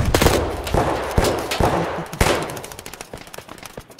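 In Escape From Tarkov on the Customs map, a loud burst of rapid gunfire cracks out several close shots in quick succession, each echoing and then fading away.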